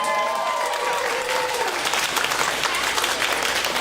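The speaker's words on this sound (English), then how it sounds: "We want your huge rounds of applause." A large audience at a 1920s-style burlesque show breaks into loud, sustained applause, dense clapping mixed with cheering that swells and holds steady.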